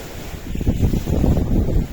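Steady wind roars and buffets a microphone in low rumbling gusts, with a faint wash like surf underneath.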